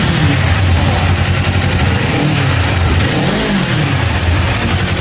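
A loud, steady motorcycle exhaust roar close by, droning throughout with slight rises in pitch as the throttle is worked.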